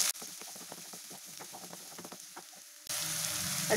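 Finely chopped large onions sauté in a pan for a pigeon pea masala curry, crackling and sizzling in quick bursts. Near the end the frying jumps to a louder, fuller hiss.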